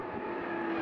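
Two race cars, including a GT-R, accelerate side by side down a straight in a real-car battle, a brief loud engine drone with a steady high-pitched whine.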